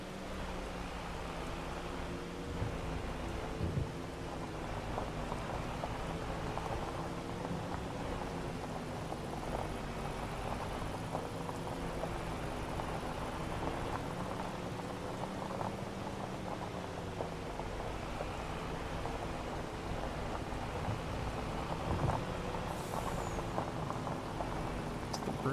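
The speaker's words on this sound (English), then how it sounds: "Of course, it's got to be raining." Steady rain pours in Farming Simulator 25, a continuous broad hiss with a low rumbling wash that holds at an even level throughout, with no distinct thunderclap standing out.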